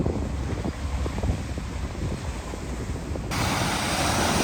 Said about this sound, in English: these waves coming right up to here